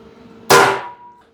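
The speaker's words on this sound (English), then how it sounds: "Let me hit them with the old punch-a-lunch" One sharp metallic clang as a hammer strikes a center punch to mark drill holes on metal for a homemade exhaust, ringing briefly before decaying.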